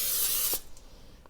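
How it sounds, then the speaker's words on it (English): Cooking spray such as Pam sprayed onto a baking sheet while making vegan cinnamon rolls: one close, steady aerosol hiss lasting about half a second, then quiet kitchen room tone. "take your baking sheet, whichever size that you think you might need, and spray it with some Pam"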